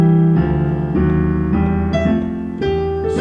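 Stride piano playing a tune, solo, with steady alternating bass notes under block chords in the right hand. The playing is loud and close and carries on without a break, with no voices.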